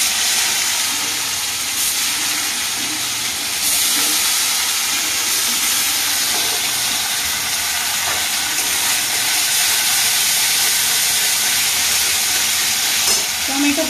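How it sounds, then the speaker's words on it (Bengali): Dried red chili, cumin seeds and ginger-garlic-onion paste frying in hot oil for an egg curry, a loud continuous sizzle and hiss with occasional stirring scrapes, close and steady throughout. "এই তেলেতে একটা শুকনো লঙ্কা, একটু জিরে ফোড়ন দিয়ে দেবো, আদা রসুন পেঁয়াজ বাটাটা দিয়ে দেবো"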